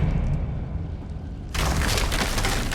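A Confringo blasting spell detonating in Hogwarts Legacy: after a quiet stretch, a sudden loud broadband blast erupts and rumbles on to the end.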